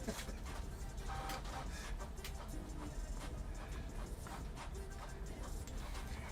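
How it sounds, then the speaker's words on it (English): Malfunctioning printer dropping papers, a steady dense mechanical whirring and rattling that runs loud and continuous throughout with scattered clicks. "the printer's going crazy and dropping papers all over the place"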